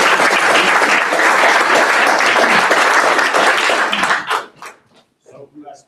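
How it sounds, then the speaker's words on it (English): An audience at a data visualization talk bursts into loud, sustained applause, which fades after about four seconds into a few scattered claps and quiet voices. "let's give them a round of applause"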